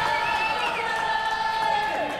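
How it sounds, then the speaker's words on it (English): A crowd at a Kuo Shu Lei Tai martial arts tournament cheers and whoops for a fighter. Sustained, dense shouting comes from near and far without pause, with a few shrill whistle-like voices above. "Sounds like Johnny Dymond has a cheering section in the crowd as well."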